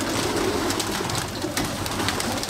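Racing pigeons are released in still, windless air at a shaded spot, making a dense, continuous rush of wings and bird sounds close by, with no talking.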